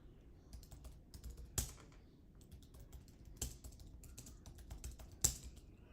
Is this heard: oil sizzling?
no